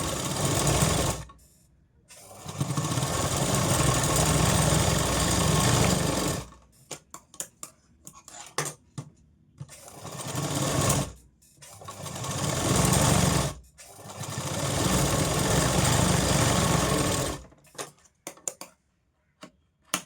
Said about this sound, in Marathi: आणि अर्धा इंचावर इकडून एक शिलाई मारून घ्यायची आहे